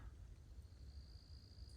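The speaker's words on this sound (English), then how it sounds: "there's like a cricket or something" Cricket chirping at night in East Texas woods, a thin steady high trill running continuously and faintly over a low rumbling background, with no voices.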